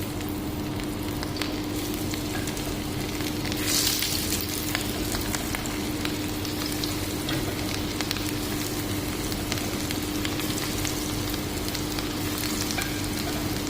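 Coated carrot sticks frying in hot oil in a pan, giving a loud, dense, continuous sizzle that holds steady throughout with faint spatters on top.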